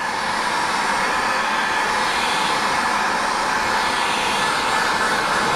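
Steady, loud broadband blowing roar of a heat gun used to shrink tint film on a 2002-2009 Dodge Ram windshield, running continuously without pause or voices.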